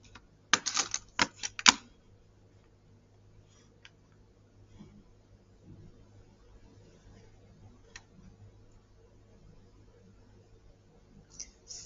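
Keyboard typing of an equation into Desmos comes as a quick burst of close clacking keystrokes at the start, then scattered faint taps and a few later clicks over an otherwise quiet stretch.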